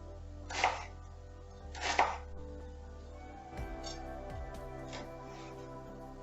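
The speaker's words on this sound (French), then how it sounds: "on va couper les oignons en tout petits morceaux" Onions are cut into small pieces with a knife on a board, two distinct slicing knocks followed by lighter, scattered chopping taps, fairly quiet and close.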